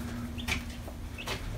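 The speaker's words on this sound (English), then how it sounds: "So we got day old chickens" Fifteen day-old chicks under a warm red heat lamp give a couple of brief, high peeps over a steady low hum, fairly quiet and without talk.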